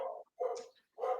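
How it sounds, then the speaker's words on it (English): A pet dog barks three times in quick succession close by, sharp loud woofs with short gaps in a quiet indoor room during a live sports show. "we're live, so that's my dog barking."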